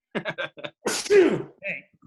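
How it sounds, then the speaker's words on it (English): A single sharp sneeze bursts out between short bits of nearby talk, loud and abrupt. "that was the Rona sneeze"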